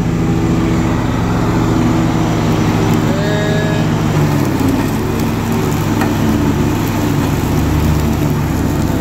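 Simplicity Broadmoor SLT300 lawn tractor engine running at full throttle while mowing through grass, a loud, steady, unbroken drone that holds close and constant throughout with no talking.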